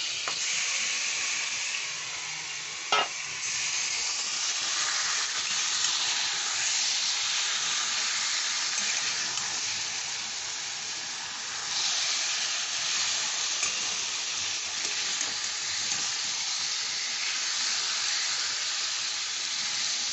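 Chicken tipped into a hot pan for chicken do pyaza sets off a loud, steady hiss of sizzling oil and steam that carries on evenly, with a sharp clatter early on.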